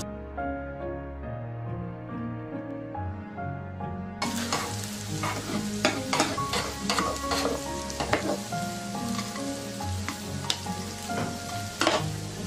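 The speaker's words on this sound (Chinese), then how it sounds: "盖上盖子烙两分钟，掀开看看，给它翻翻。" A green pepper and egg pancake sizzles and crackles in a pan, a quiet tonal hum giving way partway through to loud, continuous frying with sharp popping bursts, close up and without talk.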